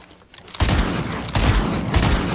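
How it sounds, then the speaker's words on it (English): Video game guns fire on their own in bursts, heavy rapid gunfire starting suddenly and cutting in again twice, loud and close with no talk. "My guns are randomly shooting"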